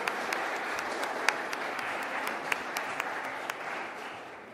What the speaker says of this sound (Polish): Myślę, że wszystkim należą się naprawdę gromkie brawa za tak rzetelnie przygotowaną argumentację.